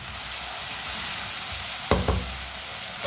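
Green tomatoes cook in a pan with a steady, even sizzle, interrupted twice in quick succession by the clack of a spoon stirring against the pan.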